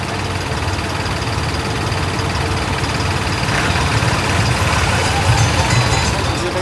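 A tractor engine runs outdoors at a soil-service site, a loud continuous diesel drone with a slight rise in the second half and no pauses.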